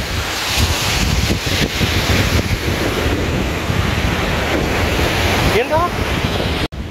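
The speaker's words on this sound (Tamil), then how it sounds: "இங்கே பீச் கிட்ட வந்திருக்கோம் பாருங்கள்" Ocean waves break and wash steadily onto the beach below Varkala cliff in Kerala, a loud continuous roar of surf mixed with wind buffeting the microphone.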